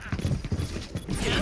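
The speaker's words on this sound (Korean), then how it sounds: "앞인 줄 알았는데 발소리가 뒤였네" Footsteps behind the player in the game Overwatch, a quick run of close, rhythmic thudding steps with a clattering texture, fairly loud and steady across the clip.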